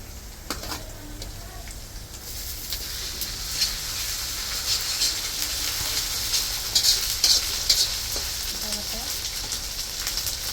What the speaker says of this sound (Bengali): এখন দিয়ে দিলাম আদা বাটা